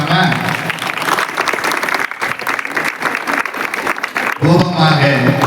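An audience at a Pongal festival celebration in a women's nursing college applauds college management and teachers, loud dense clapping throughout with voices and cheering mixed in, swelling again near the end.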